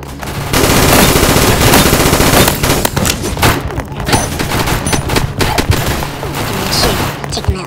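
Rapid automatic gunfire from a Roblox Mayday firefight, loud, dense bursts of shots running almost the whole time with brief lulls and scattered single cracks.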